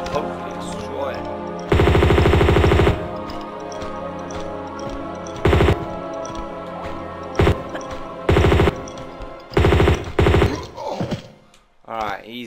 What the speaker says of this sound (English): I'm going to take out my M16 because this thing is going to hopefully destroy it